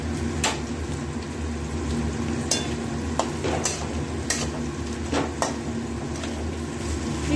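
Banana flower stirred in ghee in a wok hisses with a steady sizzle, broken by several sharp scraping strokes of the spatula against the pan, close and continuous.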